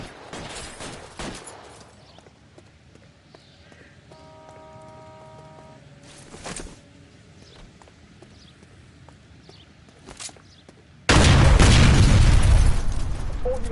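Gunfire from the video game L.A. Noire comes as a few sharp isolated cracks spread over the clip, then a sustained loud burst of shooting fills the final few seconds.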